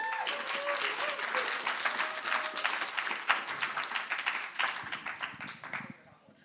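An online poetry jam audience breaks into dense sustained applause after a performance, loud and continuous before tapering off near the end, with voices mixed in.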